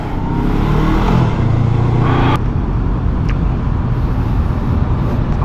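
A 2024 Honda big bike with E-Clutch runs in first gear, its engine droning loud and steady with smooth throttle swells and a wind-buffeted rumble throughout.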